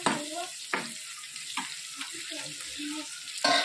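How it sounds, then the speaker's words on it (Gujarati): Chillies roast in a hot pan with a light crackling sizzle, broken by a few sharp scrapes and knocks of a spoon against the pan. "મરચા આપણે સરસ શેકાઈ ગયા છે"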